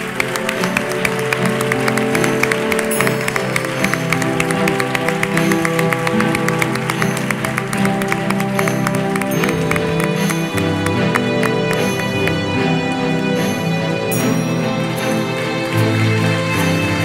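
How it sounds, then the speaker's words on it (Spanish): Audience applause at a sports awards gala in Conil, 2023, as a prize is collected: dense, steady clapping from a large crowd that holds at an even level throughout, with music and faint voices blended underneath. "Pedimos un gran aplauso para Ana Ramírez Brenes"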